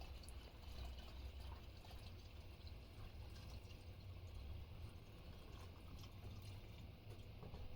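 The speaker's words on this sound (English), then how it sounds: "Go ahead and pour this back in" Two-stroke fuel mix for a Toro 25.4cc engine being poured back into the tank, a soft, steady trickle of liquid with faint gurgles, quiet and close.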